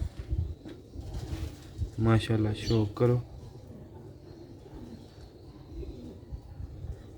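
A Sialkoti black-faced pigeon coos in a deep, rolling burst of about a second up close, with someone talking around it and faint rustling in the background.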